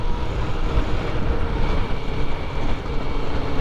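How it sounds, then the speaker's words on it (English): Kawasaki ZX-4RR motorcycle engine with ram air intake, a steady dense roar that stays loud and constant throughout with no talk over it. "I don't know if it's that ram air intake, but that's a beautiful note right there."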